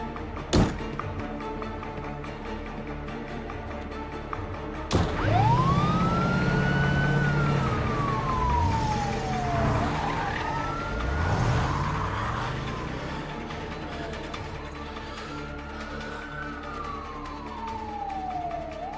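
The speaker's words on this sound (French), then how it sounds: "Je veux savoir d'où vient cette ambulance." Ambulance siren in an action thriller scene, rising and falling wails that sweep up and down repeatedly, loud and close, punctuated by a couple of sharp bangs and rumbling vehicle noise.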